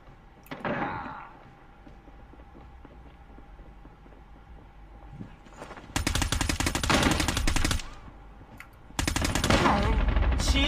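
Shotgun and automatic gunfire in the mobile shooter Call of Duty Mobile, heard as two dense, loud bursts of rapid shots with a few isolated blasts earlier and quieter game sounds between.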